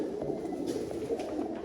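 A Sialkoti pigeon coos close by in a soft, low, continuous murmur that rolls on without a break for the brief moment.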